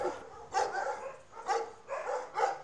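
A mixed-breed female dog of about two years, kept on a chain, barks four times in a sharp, even rhythm, fairly close and moderately loud with no talk over it.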